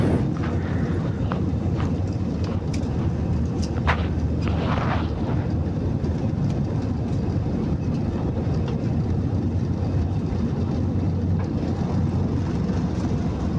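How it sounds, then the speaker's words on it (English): A passenger plane accelerating down the runway for takeoff on a flight from Guwahati, India to Bangkok: a steady, loud, broadband engine rumble fills the whole stretch with no voices. "This plane is taking its speed to take off, increasing its speed to take off."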